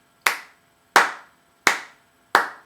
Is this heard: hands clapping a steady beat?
yes